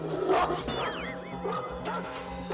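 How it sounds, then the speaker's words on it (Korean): A large dog barks and snarls aggressively while lunging at people, loud and close, with several sharp barks and growls over background noise and some human voices. "볼 때마다 달려들며 짖다 보니 문제가 이만저만이 아니었습니다"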